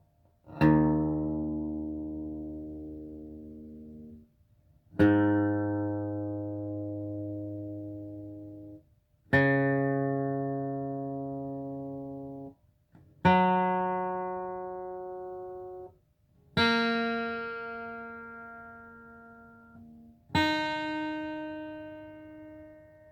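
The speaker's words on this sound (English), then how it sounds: "I'm just going to play through all my strings." Six guitar strings plucked one at a time for tuning, each note ringing out and slowly decaying before the next, moving from low to high pitch.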